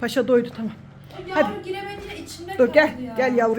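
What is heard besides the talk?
No everyday noise stands out behind the speech.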